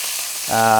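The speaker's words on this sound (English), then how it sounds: "We've got some sausages sizzling there." A short burst of steady frying hiss from sausages in a pan, joined near the end by a sustained tonal hum.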